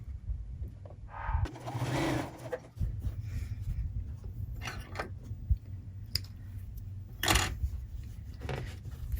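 A sewing machine stitches a scrappy quilt-as-you-go log cabin block in short bursts, its low motor whir close and steady, broken by fabric rustles and light scraping handling sounds.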